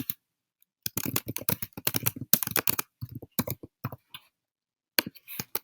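A computer keyboard typed on in close, crisp bursts of rapid key clicks, with short pauses between them and no talk.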